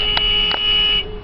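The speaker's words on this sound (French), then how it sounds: "je klaxonne" Horn of a Potain MC 85 B tower crane sounding two short, loud electronic beeps followed by a longer sustained tone that cuts off, alone without talk.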